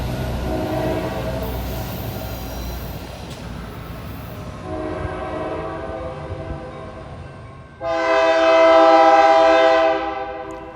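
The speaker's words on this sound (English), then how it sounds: "train number 716, from Oakland Jackson Square to Bakersfield on track 1, crossing over to track 1 here in Oakland Jackson Square" An Amtrak train bound from Oakland Jackson Square to Bakersfield rumbles through a track crossover, its wheels clattering steadily before a loud, sustained horn blast sounds near the end.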